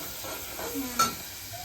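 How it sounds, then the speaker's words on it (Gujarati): Spices sizzle softly in hot oil for a tempering, a faint steady crackle with a few light stirring scrapes and one brief clink of a utensil, no talk. "આવી રીતે વઘાર કરી દેવાનો છે"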